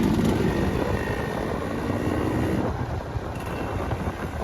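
A Yamaha RX100 motorcycle with a six-hole silencer runs close by, its engine giving a steady, buzzing hum with a low throb that eases slightly partway through, with no talk over it.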